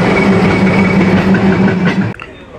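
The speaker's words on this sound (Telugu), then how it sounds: "మన ట్రైన్ వచ్చేసండి ప్లాట్ఫామ్ నెంబర్ 1కి అయితే వెళ్తుందండి చెన్నై సెంట్రల్ రైల్వే స్టేషన్లో." A Bitragunta–Chennai Central MEMU Express rolls into Chennai Central station, loud and close with a steady rumbling drone and faint clatter that stops abruptly near the end.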